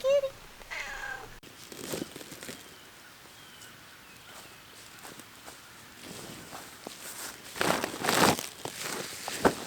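A cat gives a couple of short, soft meows near the start on a quiet farm on a winter morning at goat-feeding time, followed by faint footsteps, rustling and crinkling.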